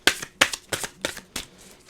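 Oracle cards shuffled by hand, five quick riffling bursts in an even rhythm, close and crisp with brief pauses between each.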